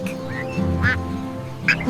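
A duck quacks in a short, nasal series of calls, close and clear, with a voice talking alongside it.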